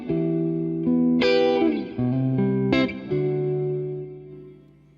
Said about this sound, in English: Now that's an excellent plate reverb.